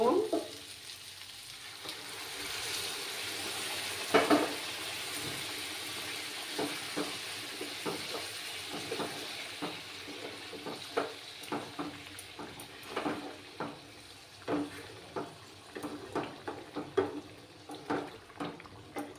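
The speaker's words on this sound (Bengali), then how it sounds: "এবার আমি এটার মধ্যে গরম জল দেব।" Mutton masala in a Bengali-style curry pan sizzles steadily as hot water goes in, a broad hiss with a sharp burst early on, then scattered spoon clatters and pops coming close and moderately loud.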